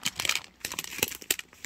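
Vinyl wrapping on a sticker sheet is torn and crinkled by hand, producing a quick series of close, sharp rustling rips and crackles with no talking.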